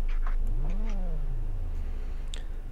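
A cat lets out a single long, drawn-out meow that rises and falls, close by, over a steady low background hum.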